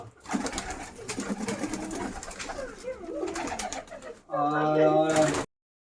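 Pigeons at a loft selling Giribaz pigeons, a male among them, coo near the end with a low, resonant call, after a stretch of indistinct people talking and background noise.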